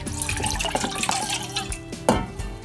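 Salted horse mackerel fillets rinsed in a bowl of sake, giving close, continuous sloshing and splashing of liquid with small drips and a brief louder splash near the end.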